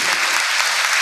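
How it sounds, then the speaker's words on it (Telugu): A church congregation claps hard and fast during a prayer service, a loud, dense wall of applause filling the whole moment. "కొట్టు చప్పట్లు గట్టిగా."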